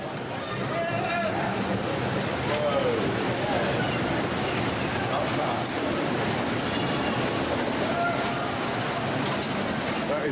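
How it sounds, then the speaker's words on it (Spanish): Tsunami waves in Indonesia breaking against a hotel complex, a steady roaring wash of water with wind buffeting the microphone, continuous and loud, with faint voices in the background. "otro turista británico grababa las mismas olas, rompiendo contra su complejo hotelero"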